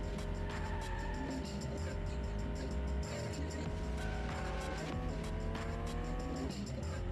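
A car revs and shifts gears in the PS2 street racing game MTV Pimp My Ride Street Racing, with steady rising and falling engine tones over game music and occasional tire noise.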